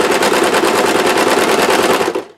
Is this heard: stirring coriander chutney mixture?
no